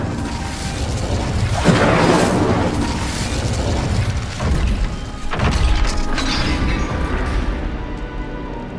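Incendio fire spell blast in Hogwarts Legacy: a loud, continuous roar of flame and impact with several heavier crashing surges, around two, four and a half, and five and a half seconds, sustained throughout.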